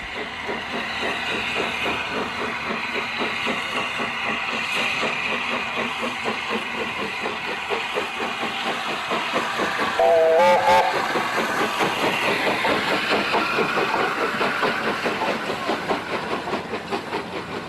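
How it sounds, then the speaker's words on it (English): Steam locomotives working through York, a steady close rumble and hiss of a passing train with rhythmic wheel beats and a brief whistle in the middle. "there were no fewer than 3 steam locomotives working through York"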